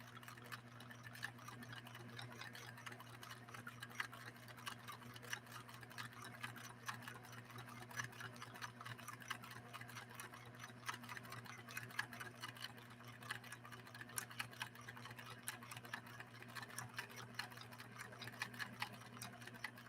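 A Pfaff 1222E sewing machine stitches leather with a leather needle: rapid, even mechanical ticking, steady and faint throughout, over a low constant motor hum.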